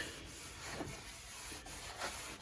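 A rag rubs wood stain along the grain of a board, a soft, continuous brushing swish with faint rhythmic strokes, quiet and close with no voices.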